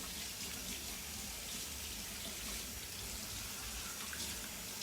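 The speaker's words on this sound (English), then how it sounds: "let me rinse my hands off and show you what the next step is" A kitchen sink tap runs steadily while hands are rinsed under it, a close, continuous splashing hiss of water with no break.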